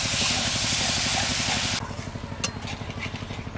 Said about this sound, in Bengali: মশলাগুলো যাতে না পুড়ে যায় তার জন্য অল্প সামান্য জল দিয়ে দেব